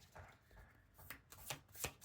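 Tarot cards are shuffled by hand close up, giving a quiet run of soft riffling and tapping flicks with a few sharper snaps.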